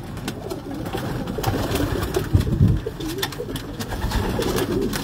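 Pigeons in a loft coo repeatedly in low, rolling calls, with scattered wingbeats and shuffling close by, no one talking.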